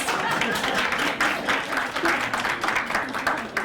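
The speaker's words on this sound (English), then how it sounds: "give them a round of applause" An audience at a talk claps in a steady patter of applause, moderately loud and continuous, with faint murmuring in the background.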